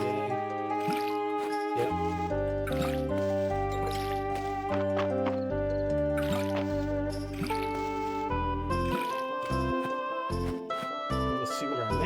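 Crops are watered in the video game Fields of Mistria, with soft repeated dripping and squishing splashes over a constant bright, tinkling backing melody. A voice speaks one brief word.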